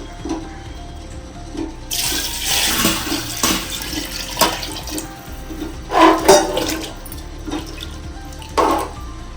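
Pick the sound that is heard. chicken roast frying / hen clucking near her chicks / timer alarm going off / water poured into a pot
water poured into a pot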